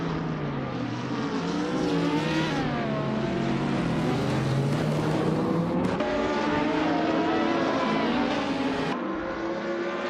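Race cars in a racing video game accelerate hard in a continuous loud engine roar, pitches sweeping up and down through gear changes as several engines overlap, close and sustained throughout.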